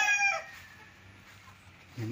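A rooster crows briefly and fairly loudly at the start on a walled farm lot in Liliw, Laguna, followed by quiet background and a faint low cluck near the end.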